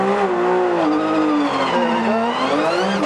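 A Porsche 911 GT3 Cup car on cold, slippy tyres on the Goodwood Festival of Speed hill, its engine roaring loud and close with pitch holding steady then dipping and climbing as it pulls away.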